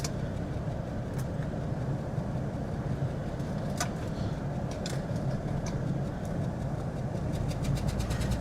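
Steady car engine drone on a test drive, a continuous low rumble that holds even and fairly loud throughout, with a few faint clicks and light rattles over it.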